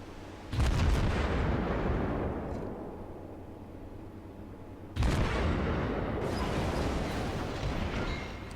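Naval gunfire from the Königsberg cruiser in World of Warships booms in two loud, heavy salvos a few seconds apart, each rumbling and slowly decaying under continuous battle noise, with no talk.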